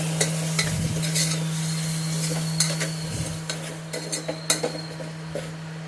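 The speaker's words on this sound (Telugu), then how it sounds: "ఇప్పుడు మనం తీసుకున్న మటన్ అందులో వేసి కొంచెం ఆ ఆయిల్లో ఆ మటన్ని బాగా మగ్గనివ్వాలి" Mutton fries in hot oil with spices, giving a loud continuous sizzle with repeated metal spatula scrapes and clinks against the pot over a low steady hum, with no talking.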